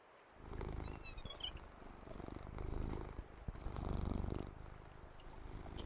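Cat purring in the fishing video game Cast n Chill: a soft, steady, rhythmic purr that swells and fades in waves, with a brief high chime near the start.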